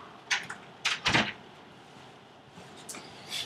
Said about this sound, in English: Hold on while I shut my door.